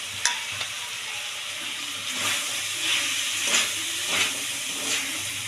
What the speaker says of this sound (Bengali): কাঁচা লঙ্কা চেরা দিয়ে দেবো।